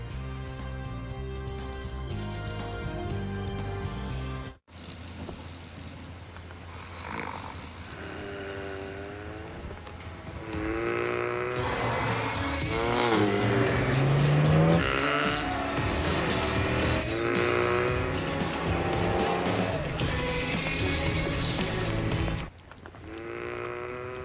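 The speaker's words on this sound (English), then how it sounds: "The turbocharged dream machine, the Volkswagen Golf GTI, part of the award-winning Golf family." A Volkswagen Golf GTI, a turbocharged hatchback, drives hard in a TV commercial with engine revs rising and falling over a music bed, loud and close throughout, with a brief drop to silence early on.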